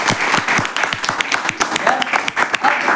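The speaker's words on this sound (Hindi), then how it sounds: "एक बार इसके लिए जोरदार ताली" An audience applauding in a hall, dense rapid clapping from many hands throughout, loud and close, with a voice audible over the clapping.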